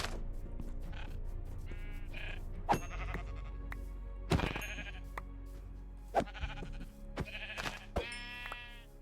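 Several sheep in Minecraft bleat in short, separate calls spread across the stretch, over a steady low game background hum with a few sharp clicks.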